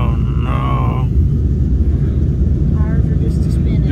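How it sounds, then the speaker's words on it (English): A farm truck stuck in mud on a ranch revs hard in reverse, producing a loud, steady low engine rumble, while a person talks briefly over it. "Ready? I'm in reverse. Gas it."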